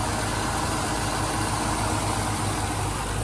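A 1999 Pontiac Firebird Trans Am WS6 convertible with a six-speed manual idles close by, a steady, even engine rumble that holds constant with no revving and no talk.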